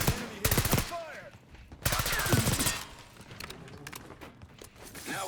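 Two loud bursts of rapid automatic fire in Call of Duty Black Ops 6, the first short and the second longer, followed by quieter shots and shouting voices.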